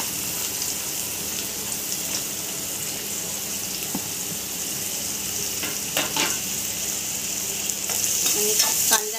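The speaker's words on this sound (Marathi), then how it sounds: "कांद्यांना पण गोल्डन होईपर्यंत आपल्याला परतून घ्यायचे।" Two large chopped onions frying in oil in a pan, a steady close sizzle with soft stirring scrapes and occasional brief clinks, continuous throughout with no talk.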